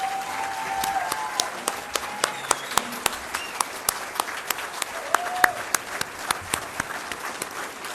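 A modest crowd at an NAACP rally for Bedford Downs claps, its scattered hand claps ringing out crisp and fairly near in an uneven beat, with faint tonal background sounds and a few murmurs behind them.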